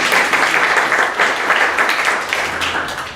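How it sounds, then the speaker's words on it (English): A seated audience at a talk breaks into continuous applause, a dense, loud wash of many hands that carries on steadily throughout. "Round of applause for Freya."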